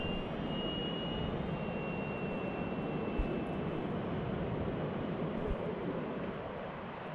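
A radio-controlled model jet plane flies past over a beach, its engine a steady, loud broadband roar that holds evenly throughout with a faint high whine running along the top.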